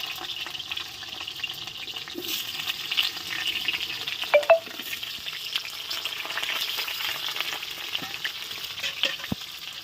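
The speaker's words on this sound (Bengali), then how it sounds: "প্রথমে আমরা আলুটা আর কি ভেজে নেব" Potato pieces frying in hot oil in a pan, a continuous bright sizzle with occasional stirring clatter and a couple of sharper pops near the middle, steady and close with no voices.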